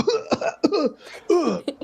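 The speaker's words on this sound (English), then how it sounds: "Magnus is coughing and hacking up his hot sauce." A person coughs and hacks repeatedly, rough throaty bursts in quick succession, close and loud with short gasping pauses between.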